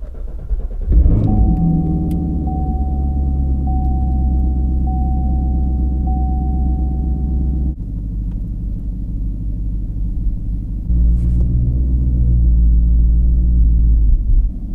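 Chevrolet C7 Corvette engine running close by, a deep steady rumbling idle with a faint whine, dipping briefly before settling back to a low drone.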